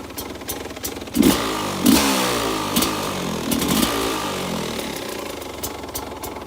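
A Sherco 250 SE dirt bike engine revving close by, with several sharp throttle blips rising over a steady, buzzy idle that settles back between bursts.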